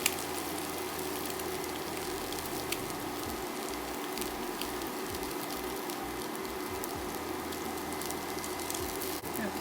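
Keto French toast fries in a pan with a soft, steady sizzle and faint crackle, quiet and continuous throughout, with a low background hum.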